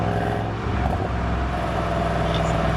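A 2018 Mercedes-Benz E63 S AMG engine idles with a steady, low rumbling purr, exhaust valves open, close and continuous, with no voices.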